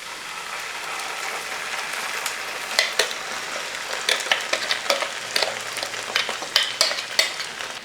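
Ground masala paste sizzles and fries with browned onions in a pan, a steady close crackle overlaid by irregular scraping and clattering stirring strokes that grow busier toward the end, with no voices.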